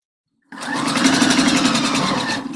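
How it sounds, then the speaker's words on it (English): A sewing machine winds a bobbin, starting abruptly after a brief silence and then running at a steady, fast, even whir, loud and close, with no talking. "I think I'm going to wind bobbin right after this"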